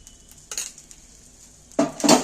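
Aloo kulcha in a pan as a spoonful of oil goes in, heard as a faint clink near the middle and then a louder burst of clatter and sizzle near the end, with no talking.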